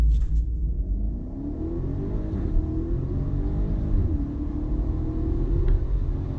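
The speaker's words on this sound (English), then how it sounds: "and then we'll do a launch start." A 2019 BMW X7 M Sport xDrive50i V8 does a launch start. The engine roars and climbs steadily in pitch as the SUV accelerates hard, heard from close by with a brief gear-change dip midway.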